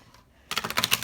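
A deck of tarot cards gets shuffled by hand, giving a quick, soft run of crisp riffling clicks after a moment of near silence.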